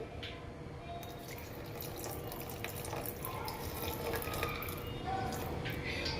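Water pours and splashes into a thick boondi batter, with wet squishing stirring sounds, close and fairly quiet.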